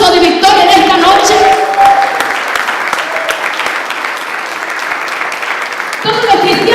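A church congregation claps during a Pastor's Day service, a broad wash of applause rising under and between a speaker's amplified voice, loud at first and continuing steadily.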